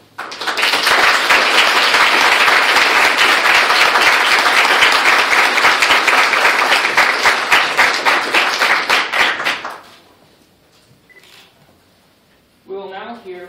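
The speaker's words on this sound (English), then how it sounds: "please join me in giving a huge applause to congratulate the Hillcrest Center for 200 years of resilient service" Loud, dense audience applause at a bicentennial kickoff ceremony for the Hillcrest Center fills the first ten seconds, then cuts off abruptly, leaving faint room noise before a voice begins speaking.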